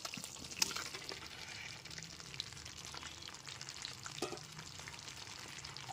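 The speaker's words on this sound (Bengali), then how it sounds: "এরপর এর মধ্যে ভেজে রাখা আলু আর ফুলকপিটা দিয়ে দিচ্ছি" Pre-fried potato and cauliflower pieces tumble into a pan of well-cooked masala, setting off a steady close sizzle with a few sharp crackles and stirring scrapes, no talk over it.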